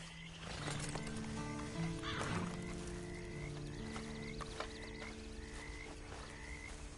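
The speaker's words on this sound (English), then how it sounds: "Then you better get on this horse." A horse in a Red Dead video game gives a brief whinny amid steady frog-like croaking and outdoor ambience. The neigh stands out near the start, and the croaks repeat evenly through the rest.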